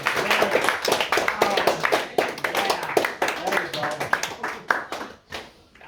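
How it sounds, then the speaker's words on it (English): A group of workshop participants clapping together in a university room, a fast uneven patter of many hands that fades toward the end, with a voice talking over it. "give this group a clap with energy in the hand"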